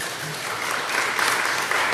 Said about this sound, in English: Just clap your hands for Jesus.